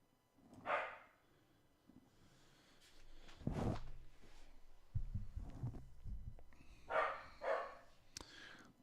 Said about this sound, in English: Somebody's dog's barking outside.